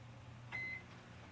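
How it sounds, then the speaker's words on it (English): A microwave oven melting butter and sugar gives a single short electronic beep, steady and fairly close, over a low hum in an otherwise quiet room. "I'm going to melt this in the microwave."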